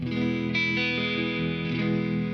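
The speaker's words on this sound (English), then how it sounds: "here's my clean tone. It's got a little bit of harmonic trem" Sustained clean electric guitar chord through a Nobels ODR Mini pedal demo rig, ringing out with a gentle pulsing harmonic tremolo, steady and fairly loud, no voices.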